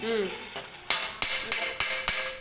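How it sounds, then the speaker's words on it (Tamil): Ingredients dry-roasting in a pan for Kanchipuram idli, a spoon scraping and stirring in a rapid series of sharp, close scrapes and taps over a light sizzle, with no talking. "செவக்க வறுத்து கொஞ்சம் ஒரு நிறமா வறுத்து எடுத்துக்கணும்"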